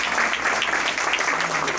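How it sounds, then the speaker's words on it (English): A short burst of steady applause fills a room at a Rotary Club meeting, many hands clapping together at a moderate distance. "Let's give one more round of applause for all our guests."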